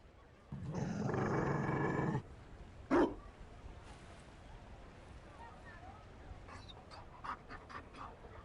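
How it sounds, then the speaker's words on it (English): A Mabari war dog in the game Dragon Age Inquisition pants heavily for about two seconds, gives one short sharp bark or growl, then huffs softly a few more times against quiet ambience. "You found a dog? They don't breed Mabari in Olay."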